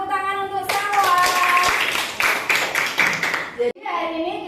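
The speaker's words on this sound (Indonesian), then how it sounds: "Kasih tepuk tangan untuk Salwa." Classroom applause as students clap their hands together for a classmate, a burst of lively clapping with children's voices chattering over it, ending abruptly before a teacher's voice resumes.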